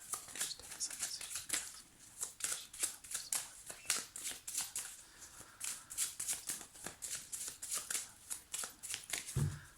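An amethyst oracle card deck being shuffled and cut, rapid close riffling and flicking of cards in a steady run, faint and alone, ending with a soft thud.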